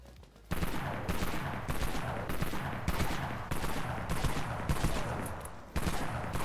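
Jackrabbit B12 shotgun in the Dead Frontier video game fires a series of loud, close blasts at a steady pace, roughly one every half second to second, with dense rattling noise between shots.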